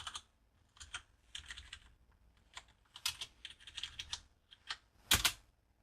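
A command typed into a Linux terminal on a computer keyboard: close, quiet clusters of key clicks in irregular bursts, ending with a louder sharp keystroke like the return key.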